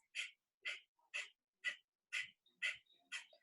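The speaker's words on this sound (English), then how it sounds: "We're just sucking in with our belly and blowing out of our nose." Seven sharp, rapid nasal exhales of kapalabhati yoga breathing in an even rhythm, each a short forceful puff through the nose, close up with quiet between.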